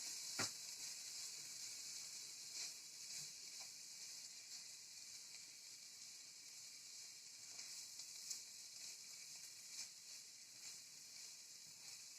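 Flour (maida) roasting in a pan for chicken cheese roll filling gives a faint, steady sizzling hiss with occasional soft scrape and stir clicks, continuous throughout with no talking.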